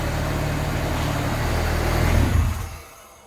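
A turbocharged AWD Honda Civic EM2 engine with full exhaust roars under load, building briefly before dropping off abruptly with a rushing blow-off valve release as the revs fall.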